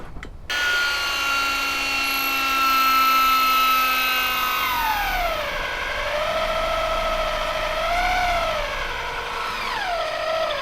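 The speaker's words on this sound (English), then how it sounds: "both sides, and then drill the hole." Power drill boring a hole through aluminium, a sustained whining tone that starts steady, then sags and wavers in pitch as the bit bites, loud and close with no talking.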